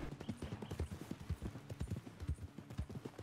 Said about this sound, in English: That's probably about as fast as that horse can go.